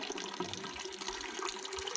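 Water poured or running from a tap, a soft, continuous splashing stream heard faintly and alone.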